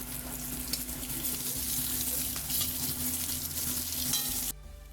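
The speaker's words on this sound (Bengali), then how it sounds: "আলুগুলো একটু ভাজা হয়ে যাক" Chunks of potato frying in hot oil for sukto give a dense, steady crackling sizzle close up, cutting out abruptly near the end.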